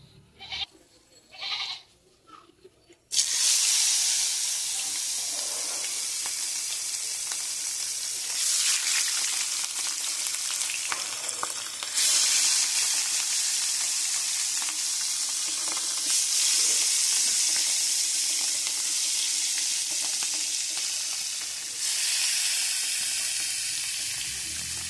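Mrigal fish coated in salt and turmeric hit hot oil in a wok with a sudden loud burst of sizzling that settles into a steady, hissing, crackling fry, close up, after a few quiet clinks.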